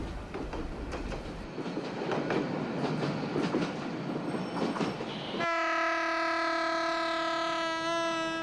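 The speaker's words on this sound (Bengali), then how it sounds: "ট্রেন আসতেছে, তোরা বয়।" A train rumbles and clatters past in a village setting, loud and steady, then a long, loud horn blares over the passing carriages until the end.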